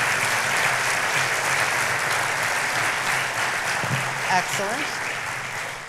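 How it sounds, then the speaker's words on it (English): Sustained applause fills a university fall convocation hall as faculty senators stand, a broad steady roar of many hands, with a voice briefly speaking over it near the end. "I want to give a special round of applause to all of our faculty senators"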